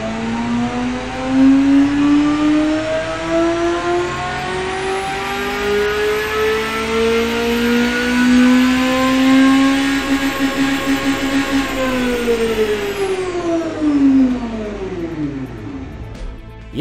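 A Group C prototype racing engine from a Le Mans 1987 racing game, revved in an engine test: a loud, sustained engine note sweeping steadily upward in pitch, holding high near the limiter, then dropping away as it winds down.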